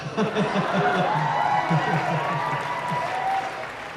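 A Comic-Con panel audience for Doctor Who claps and laughs, with a voice speaking over the applause.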